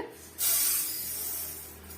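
Mustard seeds dropped into hot oil for a tomato pickle set off a sudden loud sizzling hiss that starts sharply and then holds steady, close up with no talking.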